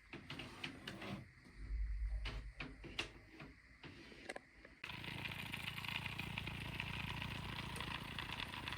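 Drain pump of a Siemens IQ700 washing machine with a drain fault, scattered clicks and knocks at first, then a steady low mechanical hum running continuously, close but quiet.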